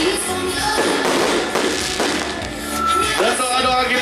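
New Year fireworks burst over a watching crowd in Buleleng, giving scattered dull thumps and bangs over a broad crackling wash of noise, with faint voices mixed in.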